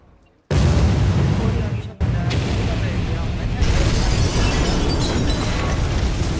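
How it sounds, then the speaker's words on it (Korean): Simulated secondary explosion inside an education center building during a district disaster-safety drill: a sudden loud blast that swells into a sustained, heavy roaring rumble, briefly dipping then continuing unbroken. "창흥융합 교육원 건물 내부에서 2차 폭발이 발생하였습니다."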